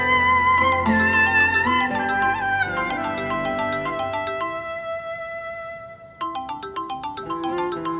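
A loud melodic phone ringtone plays close by, a bright chiming tune that pauses briefly and then starts again.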